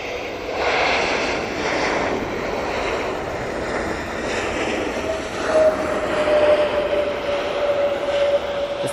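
An Etihad airliner at Manchester Airport rolls along the runway, giving a steady broadband engine roar at moderate distance with a faint tonal whine rising near the end, alone without talk.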